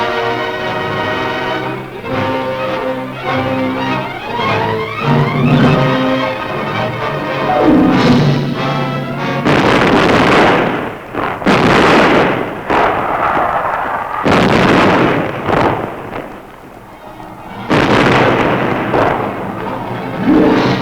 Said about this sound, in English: The naval bombardment of Japan begins.